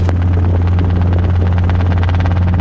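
A Robinson R22 helicopter in flight during a lesson, its rotor thumping in a steady, rapid beat over a loud continuous engine drone, close and constant throughout.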